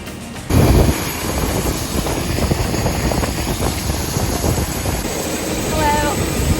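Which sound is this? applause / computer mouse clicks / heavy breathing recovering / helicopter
helicopter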